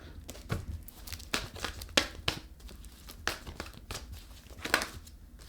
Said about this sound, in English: Let's pull you an oracle card.